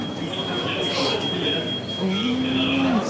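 A train pulls into a station under a constant low rumble and station noise, with a thin high whine throughout and a brief rising squeal near the end, while voices murmur nearby.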